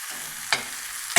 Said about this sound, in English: as this kale cooks down, you can certainly add a lot more kale